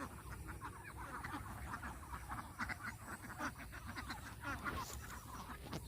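Pet ducks in a pen giving continuous overlapping quacks and calls, faint and busy, with no talk over them.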